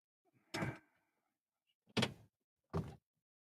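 A door is opened and closed indoors, giving three short, separate clunks and thuds spaced about a second apart. The sounds are quiet and clean, with silence between them and no talking.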